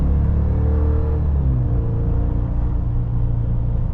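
A 2025 Chevrolet Silverado Custom pickup with a 2.7L Turbomax engine pulls at full throttle, its deep steady drone rising in pitch through a gear change, loud and close throughout with no voices.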